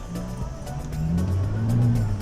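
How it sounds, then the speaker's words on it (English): Range Rover Sport 3-liter supercharged engine running in a workshop, a steady low rumble that swells and rises in pitch toward the end, close and fairly loud. "The engine noise is a lot, as it's a 3-liter supercharged."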